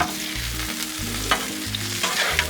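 Vegetables frying in bacon grease on a Blackstone griddle as they are mixed, a close, steady sizzle broken by rhythmic spatula scrapes and taps, with no speech.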